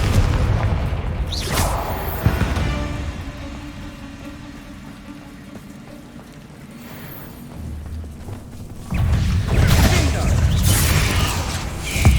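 Confringo fire-blast spell explosions during combat in Hogwarts Legacy: a couple of loud booming bursts with crackling rumble, separated by a stretch of lower mechanical background noise, with a heavy blast near the end.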